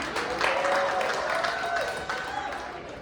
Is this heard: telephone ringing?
no